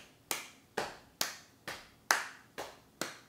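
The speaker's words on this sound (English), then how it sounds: "let's get a rhythm going on our lap" Hands pat a slow, even rhythm on a lap, seven crisp close slaps spaced about half a second apart, with no voices.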